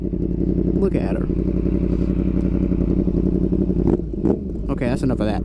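A 2023 Yamaha MT-10 motorcycle idles and revs with a steady, loud engine rumble, with a few sharper throttle blips and clatter near the end.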